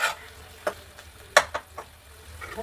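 A spoon scrapes and stirs avial with tomato and drumstick in a pan, giving a few sharp, scattered clinks and scrapes over a faint sizzle.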